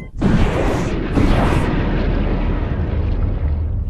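Missile launch and explosion in a dubbed Ultraman Cosmos battle: a loud, broad booming blast with two bright surges of roaring noise, then a long rumbling tail that stays strong to the end, with no voices.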